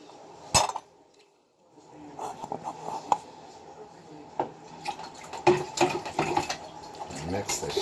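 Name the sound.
stirring water to mix in pH drops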